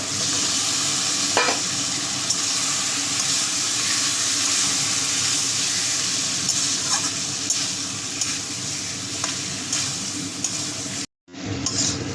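Chicken frying and being stirred in a pan: an even, close sizzle broken by occasional spatula scrapes and knocks, with a sudden short dropout near the end.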